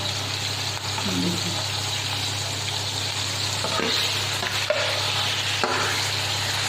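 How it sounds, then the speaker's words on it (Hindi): Scored chicken leg pieces fry in a generous amount of oil in a home kitchen, a soft continuous sizzle with occasional stirring clinks and a low steady hum underneath. "अब इसको अच्छी तरह फ्राई करेंगे, इसका कलर चेंज हो जाए।"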